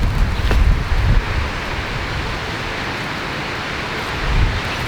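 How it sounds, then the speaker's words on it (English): Strong wind blowing across the microphone outdoors, a continuous loud rumbling roar with gusts swelling at the start and end. "Tigger, it's wind."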